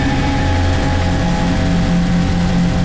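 A chopper with an infrared system flies overhead while tracking a fugitive near the US-Mexico border, a loud, steady engine and rotor drone with a constant low hum.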